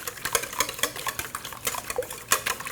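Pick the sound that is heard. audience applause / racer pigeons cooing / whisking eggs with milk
whisking eggs with milk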